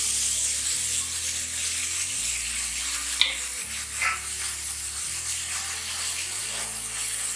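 Fenugreek leaves hiss and sizzle steadily in a hot pan with gram flour as they are stirred in, showing a couple of brief scraping accents and no talking.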